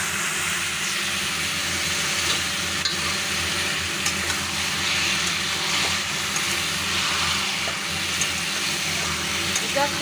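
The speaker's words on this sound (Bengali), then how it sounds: "এখানে কিন্তু ভালো করে কষিয়ে নিয়ে নাড়াচাড়া করে কিন্তু আমাকে রান্নাটা করতে হবে" Boiled broccoli stalks are stir-fried with cumin and green chilli in a pan, giving a steady sizzle and scraping stir that holds level and loud throughout with no talk.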